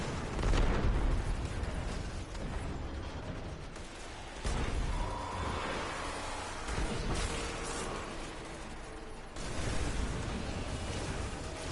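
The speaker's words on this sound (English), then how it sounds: "The captain got me with 3 rockets." Rocket explosions in Destiny boom in several heavy, rumbling blasts spread across the stretch, with a continuous loud roar of combat noise between them.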